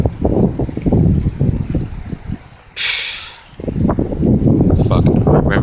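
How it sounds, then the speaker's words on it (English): Gusty outdoor wind buffets the microphone in strong rumbling rushes, trees blowing, easing briefly in the middle before roaring back, with no one speaking. "It's pretty windy at my area right now."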